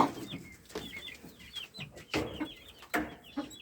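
Chickens cluck nearby in short, irregular bursts in a garden in Nikopol, Ukraine, with a few higher chirping calls mixed in and quiet gaps between.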